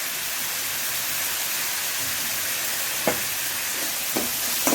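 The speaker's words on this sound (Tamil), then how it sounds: "வதங்கிருச்சு தக்காளி. அது வதங்கிட்டு இருக்கும்போது நம்ம இடித்து வச்சுருக்கிறத இதில் போட்டுக்கலாம்." Tomatoes and crushed spices sautéing in a pan for rasam, a steady soft sizzle and hiss running throughout, with a couple of faint clinks near the end and no talk.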